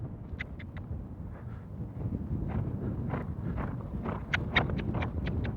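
Horse hooves beat in an irregular loping rhythm over wind-buffeted outdoor noise, the footfalls loosening and slowing toward the end, with a few sharper clip-clop hits near the close.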